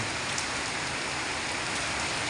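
Steady, continuous typhoon rain hisses and patters on a surface, a dense unbroken wash of sound with no talking.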